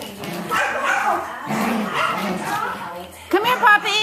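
Puppies yip and bark in short bursts, the sharpest, loudest cries coming near the end, mixed with a person talking through most of the clip.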